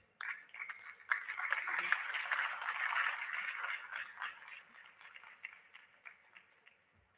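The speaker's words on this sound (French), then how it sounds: "Un autre lot d'applaudissements pour Cédina, s'il vous plaît" Faint, scattered applause from an audience after a conference presentation, a thin patter of clapping that builds and then tapers off in a quiet room.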